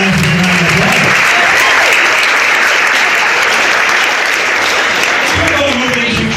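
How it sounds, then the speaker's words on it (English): Steady, loud applause from a crowd at a hypnotist show fills the whole stretch, with voices faintly mixed in at the start and end. "get a nice round of applause"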